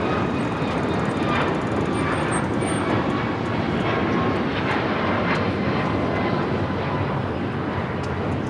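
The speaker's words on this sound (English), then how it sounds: "the Qantas A380 Super next to arrive on 24" A Qantas Airbus A380 arriving on runway 24 at Los Angeles International Airport, a continuous heavy jet roar with faint tonal whines on top, steady and fairly loud throughout, no one speaking.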